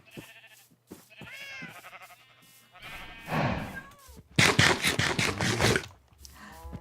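Sheep bleating in a video game about herding sheep, several wavering bleats one after another, the last ones loud and close, with a faint scrape between them.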